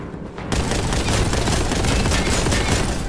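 An enemy opens fire in Warhammer 40k: Boltgun, and the gunfire starts abruptly and runs as a loud, continuous barrage of rapid shots for several seconds.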